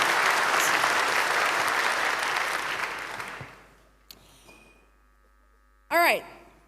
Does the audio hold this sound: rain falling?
no